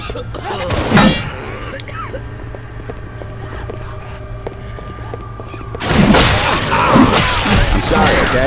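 Rifle fire in the game Red Tide, with a loud burst of shots near the start and another dense volley near the end, separated by a quieter stretch of steady droning background.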